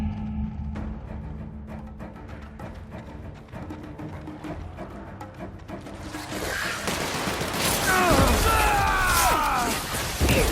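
Heavy gunfire in a shootout from The Outer Worlds, a dense, loud barrage that builds toward the end, mixed with game effects and bursts.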